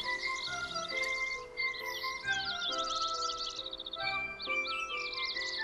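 Birds sing in the Kingdom Hearts 3 video game, bright chirps and warbling phrases repeating over soft, steady game music.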